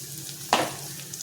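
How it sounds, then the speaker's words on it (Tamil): Onions sauté with turmeric, chilli and coriander powders in a pan for prawn thokku, with one sharp close stir or sizzle burst that fades into a soft steady frying hiss. "அப்போ தான் அந்த வெங்காயம் சீக்கிரம் வதக்கும் வதக்கிக்கலாம்"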